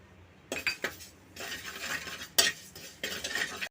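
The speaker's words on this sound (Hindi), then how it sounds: "अब मैं जीरा भून लेती हूँ" Cumin seeds dry roasting in a kadhai, stirred with a spoon in uneven bursts of scraping and light rattling, with brief gaps and one sharp metallic clink, fairly close and quiet, no talking.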